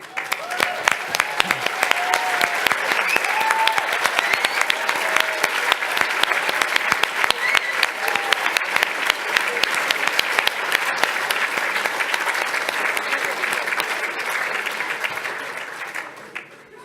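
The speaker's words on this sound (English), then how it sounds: "let's give them a huge round of applause" Sustained audience applause at an awards ceremony for people featured in a calendar, a dense steady roar of many hands clapping for about seventeen seconds before tapering off at the end.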